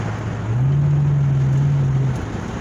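2003 Lincoln Town Car with a muffler delete, a brief close exhaust drone that swells and holds steady for about a second and a half before dropping back to an idle rumble.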